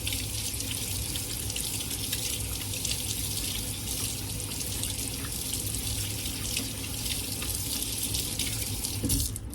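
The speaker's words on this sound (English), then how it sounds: "let me wash my hands off" Steady running water from a kitchen tap splashes into a sink while hands are rinsed free of cracker dough, a continuous close wash with no talking.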